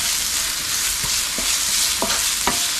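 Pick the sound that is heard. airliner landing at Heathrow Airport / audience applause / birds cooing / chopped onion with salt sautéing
chopped onion with salt sautéing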